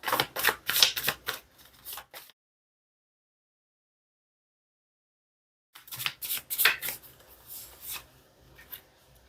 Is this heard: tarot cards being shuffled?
yes